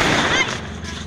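A homemade milk-can cannon firecracker goes off with one loud, close blast during a New Year celebration, leaving a short, fading rumble.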